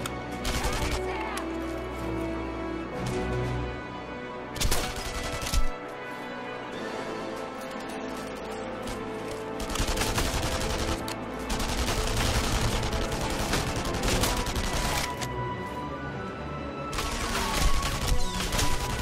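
Suppressed gunfire in the video game Enemy Front, with repeated muffled shots in short bursts. Sharp impacts and crashes sit over steady game music and ambience, and a couple of louder hits stand out.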